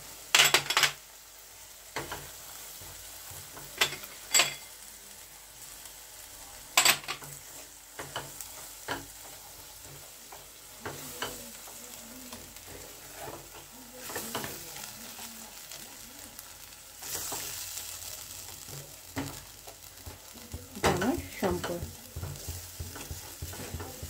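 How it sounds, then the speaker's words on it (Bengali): Paneer masala fries and is stirred in a kadhai, steady oil sizzle broken by repeated scraping spoon strokes and metallic clinks against the pan, close and moderately loud, with brief talk at the start. "এটাকে আমি একটু ফ্রাই করব।"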